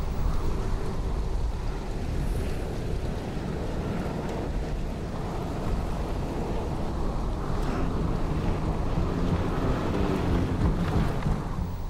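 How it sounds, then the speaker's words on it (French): Violent west wind in Arctic Canada at minus 50 degrees Celsius roars continuously with heavy low buffeting and rushing gusts, loud and unbroken, with no voices. "Moins 50 degrés Celsius, vent d'ouest violent"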